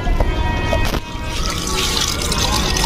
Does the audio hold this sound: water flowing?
yes